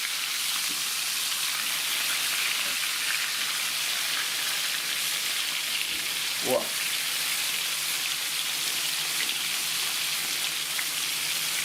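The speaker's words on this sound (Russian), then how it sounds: "масло сверху кипит" Crucian carp fries in a pan, oil crackling and bubbling in a continuous dense sizzle, with one brief spoken word partway through.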